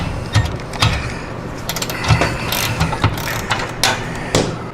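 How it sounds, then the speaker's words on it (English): A socket ratchet loosening exhaust hanger bolts on a Harley-Davidson bagger during a 2-into-1 exhaust install, with rapid pawl clicks close by in short repeated bursts and no talking. "You can just sneak a socket in there and go ahead and get those out."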